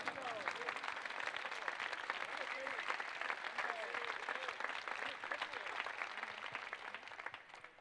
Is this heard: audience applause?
yes